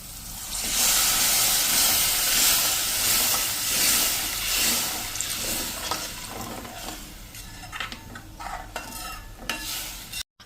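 A loud, steady hiss and sizzle as about two cups of water hit a hot pan of gravy on a low-to-medium gas flame, easing slightly toward the end with a few scraping stirs.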